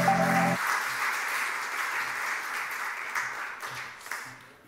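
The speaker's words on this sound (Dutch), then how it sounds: "En mag ik een hartelijk applaus voor Pieter Pekelharing" Audience applause at a Dutch political talk event, a steady wash of clapping that carries on for the full stretch after a brief opening note, fading slightly toward the end.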